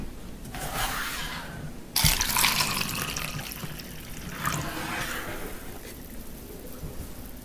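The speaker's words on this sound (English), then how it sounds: "I'm going to take this egg and put vinegar on it." Vinegar is poured over a raw egg for an osmosis experiment, giving a steady liquid splash and trickle that swells in bursts and runs through the whole stretch, close by, with no talking.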